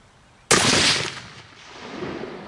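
A single loud rifle shot is fired outdoors at a groundhog during a hunt. It cracks sharply, then rolls off in a decaying echo, and faint ambient sound follows.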